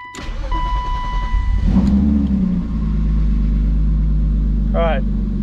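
A BMW E36 engine runs steadily at idle with a low, constant hum, after a brief rev and some clicks and faint sounds at the start.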